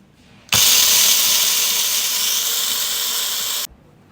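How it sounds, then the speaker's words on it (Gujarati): A mixer grinder crushes dry lentils and sesame seeds for South Indian idli podi, starting abruptly and running as a loud, steady whir for about three seconds before cutting off sharply. "એને આપણે ક્રશ કરી લઈશું તો એને મિક્સી જારમાં લઈ લઈશું"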